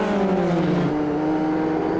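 An open-wheel Formula i F3 race car in iRacing screams at high speed in a slipstream, its loud engine note holding steady then dropping in pitch partway through as it closes on a braking zone.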